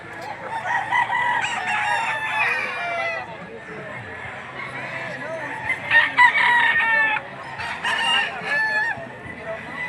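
Roosters crow and chickens cluck in overlapping calls throughout, with someone talking over the busy, noisy background of the Lipa livestock auction market.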